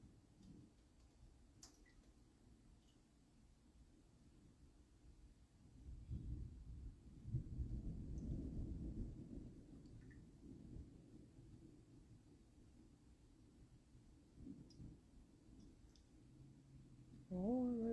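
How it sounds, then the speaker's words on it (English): Thunder from a rainstorm rumbling outside, a faint, deep, drawn-out roll heard from indoors, swelling midway and then fading back to quiet. "It's definitely thundering out there."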